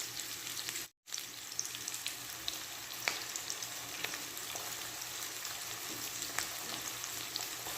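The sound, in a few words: tomato paste sautéing in a pan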